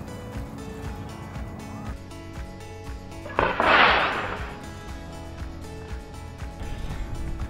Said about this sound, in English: Pressurize the rocket to the desired PSI and release